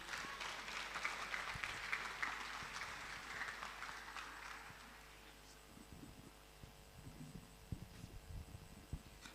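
Audience applause at a Jobberman career clinic in Enugu, a crowd clapping for several seconds before fading out, leaving a low electrical hum with scattered faint knocks and shuffles, fairly distant and quiet.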